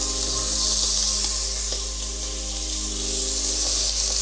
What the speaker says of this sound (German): Und dann kommen die Zwiebeln dazu und die tun wir ein bisschen mit andünsten.